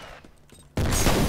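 Gunfire in the first-person shooter F.E.A.R., a loud sudden burst of rapid shots cutting in abruptly after a quieter stretch of game ambience.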